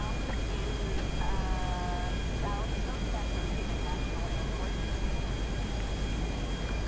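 Airplane engine running steadily in the GTA 5 Winter Edition video game, a constant droning roar filling the whole stretch, with a few brief tonal chirps near the start.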